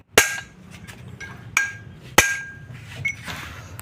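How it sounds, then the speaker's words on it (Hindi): Sharp metal hammer blows knock the flywheel ring off a John Deere 5038 D tractor, three loud ringing strikes spaced about a second apart with lighter taps and clinks between, close by and with no talk. "इतनी बारीकी से इसको ठोक ठोक के निकालेंगे।"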